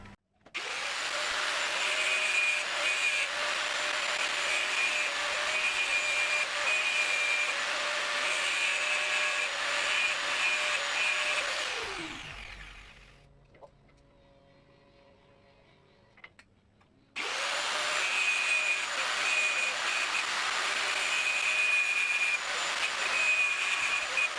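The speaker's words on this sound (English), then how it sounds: "I'll get to grinding now anyway. Just grind the edges off." A power tool grinding the edges off a welded BMX part, a loud, close, high-pitched whine held steady, spinning down to a quiet pause with faint clicks, then starting up again at full speed.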